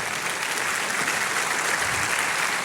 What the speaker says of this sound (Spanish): Dele un aplauso, hermano.